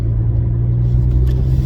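Steady low engine rumble inside a moving car, continuous and fairly loud throughout, with no voices over it.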